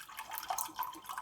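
Distilled water poured and measured out, faint light trickling and dripping with small splashy bursts, close and quiet.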